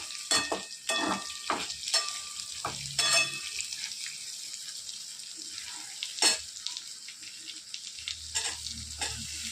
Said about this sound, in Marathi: आता येत्या मी कांदा परतून घेणार आहे